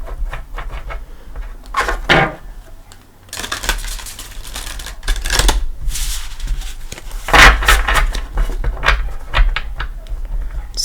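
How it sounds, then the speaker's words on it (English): Tarot cards being shuffled by hand, a series of crisp riffling bursts and papery flutters separated by short pauses, close and fairly loud. "Let's give them 2 shuffles."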